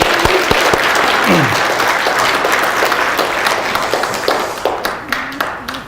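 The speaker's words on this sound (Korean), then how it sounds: "다시 한번 격려의 박수 한번 부탁드리겠습니다." Sustained applause from a church service congregation, a dense wash of many hands clapping that stays steady before thinning into scattered claps near the end.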